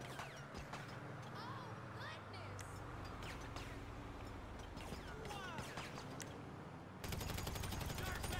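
Rapid bursts of gunfire in GTA 5 aimed at the floor, dense crackling shots layered over game noise and speech, growing louder and more continuous near the end.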